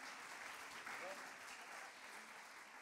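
An audience applauds Samira Azizi and Raymond Dodo at a writing prize ceremony, a faint, even wash of clapping that carries through a large hall.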